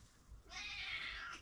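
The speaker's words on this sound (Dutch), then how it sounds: "Dat is de kat in ieder geval." A house cat gives a single faint, drawn-out meow that rises and holds for about a second, heard quietly against a low room background.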